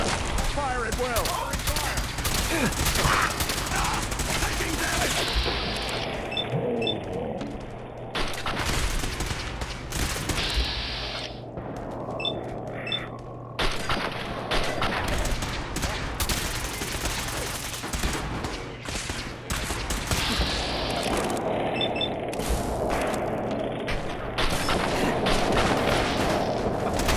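Modded Fallout 4 combat with dense, sustained gunfire and rapid bursts, loud and continuous, mixed with game voices and mechanical effects throughout.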